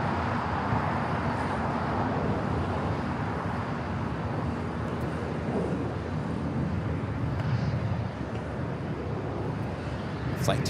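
A Boeing 787-9 Dreamliner airliner taxiing toward runway 25 right at LAX, a steady, broad distant engine rumble mixed with wind noise that never rises or fades, with no sharp events.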